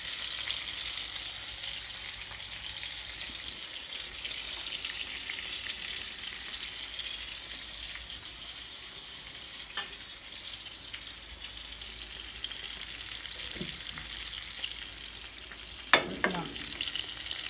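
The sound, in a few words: frying naem (Thai fermented pork sausage)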